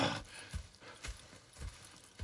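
Horses in the video game Red Dead Redemption 2 give a few soft, quiet hoof clops at an uneven, plodding pace.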